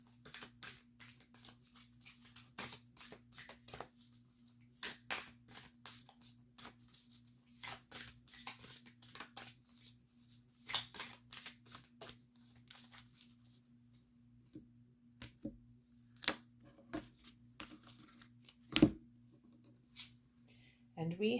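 Oracle cards from the White Light Oracle deck being shuffled and drawn, with repeated crisp brushing and riffling bursts near and fairly quiet over a steady low hum, plus a louder snap near the end.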